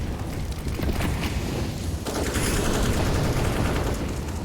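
Dense, continuous gunfire and explosions from a CS:GO match, including AK rifle fire, roaring steadily and loudly throughout with no pauses.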